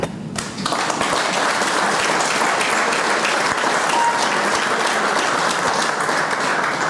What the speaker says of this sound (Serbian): Aplauz dovoljno kazuje